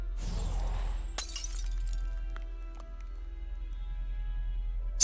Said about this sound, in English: Shatter.